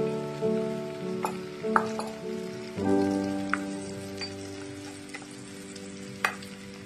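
Chicken pieces and garlic paste shallow frying in a pan, a close crackling sizzle with sharp pops and spoon clicks over a humming tone that swells midway, then a quieter steady fry; no talking.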